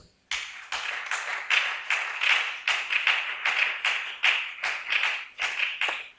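A church congregation claps in praise of the Lord, a quick, slightly uneven run of sharp handclaps sustained for about six seconds, close and fairly loud, with no voices.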